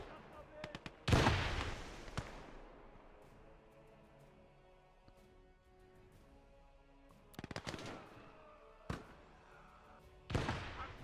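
Grenade rifle and small-arms fire in the Gates of Hell war game: a sharp, loud burst near the start, then a quieter lull with scattered cracks, followed by two more bursts of blasts and shots. A voice talks faintly beneath.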